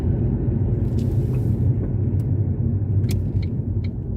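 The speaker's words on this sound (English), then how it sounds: "Aftermarket muffler system sounding amazing" A 2005 Ford Focus ZX4 with a 2.3-liter four-cylinder DOHC engine and aftermarket muffler idles with a steady, loud low exhaust rumble, constant throughout with no talk.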